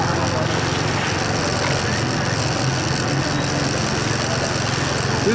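A motorcycle engine idling at a village patronal festival, a continuous loud chugging drone filling the whole stretch with busy background noise.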